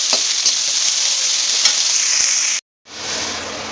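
Onions fry in a pan, a close, steady sizzle with faint stirring clicks, broken by a brief silent gap before the sizzling resumes.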